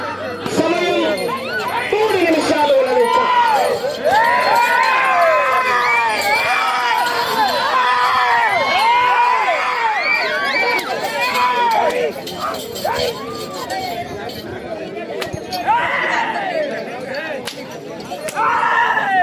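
Spectators at a bullock pulling contest in Chinnakesampalli village, Badvel, shout and cheer loudly and continuously, many excited voices overlapping, with occasional clinks and sporadic clapping.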